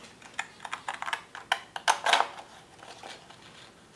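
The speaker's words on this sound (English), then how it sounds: "I'm going to use a serrated scissors and cut through" Serrated scissors cut through paper for a holiday picture frame, producing a run of crisp, close snipping crunches in uneven bursts, with no talking.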